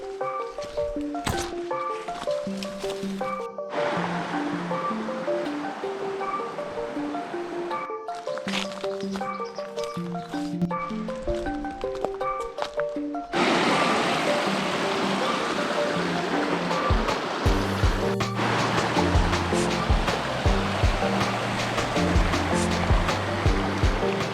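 Creek water rushes and splashes steadily alongside a walking trail, loud and close, with a brief stretch of rhythmic thumping and tonal patterns early on before the flow swells louder and fuller for the rest.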